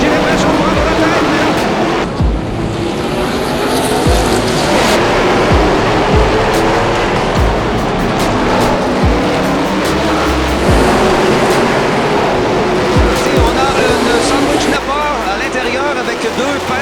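NASCAR stock cars roar past continuously on an oval track, engine noise loud and sustained throughout, with a French commentator talking over the race.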